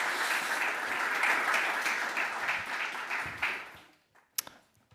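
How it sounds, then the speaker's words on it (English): Audience applause at a public lecture on micro- and nanoplastics, a dense wash of clapping that holds steady, then thins and dies out near the end, with a couple of isolated late claps. "Please give him a warm applause."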